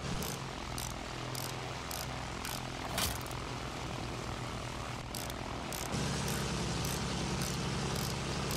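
Enemy propeller plane in the Battlefield 1 video game, a steady droning engine with a rough buzzing tone that grows louder partway through, mixed with sharp intermittent cracks of gunfire.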